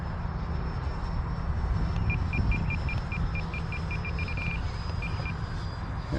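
FMS Integral 80mm EDF model jet passes with a continuous ducted-fan rush and rumble as the throttle eases back, heard from the ground at moderate distance, with a short run of quiet electronic beeps over it and no talking.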